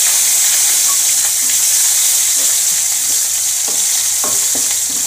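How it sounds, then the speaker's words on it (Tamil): Onions hit hot oil with mustard seeds, crushed garlic and fennel for an eggplant kuzhambu, giving a loud, steady sizzle broken by occasional stirring scrapes and pops, with no talking. "இப்போ வெங்காயம் போட்டுறேன்."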